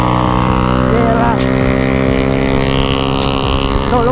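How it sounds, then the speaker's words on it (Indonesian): Loud, steady engine drone of a motorcycle with a noisy aftermarket exhaust on a Yamaha Mio scooter night ride, with a continuous roar and small pitch wobbles. "Tuh lu bayangin lu digeber di kuping tuh pakai knalpot kayak gitu."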